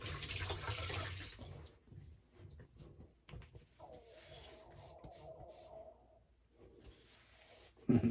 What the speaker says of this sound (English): I'm going to do a cold water rinse here.